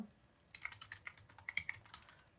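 Keys clack on a computer keyboard in a burst of irregular taps, typed into a word processor; the strokes are close and fairly quiet, with no talking.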